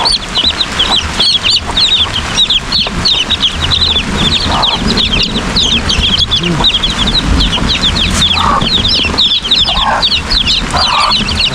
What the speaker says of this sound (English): So we wanna put the chicken inside.